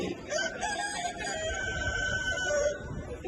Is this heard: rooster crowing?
yes